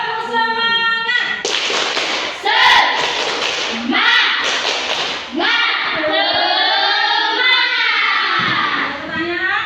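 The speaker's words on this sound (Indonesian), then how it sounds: "Tepuk semangat." Children in an Indonesian classroom perform the tepuk semangat spirit clap, with loud rhythmic clapping bursts mixed with chanted voices throughout.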